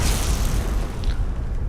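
A deep, booming explosion in the video game Skyrim during a dragon hunt, a loud rumbling blast that fills the moment with low-end roar and a brief crackle mid-way.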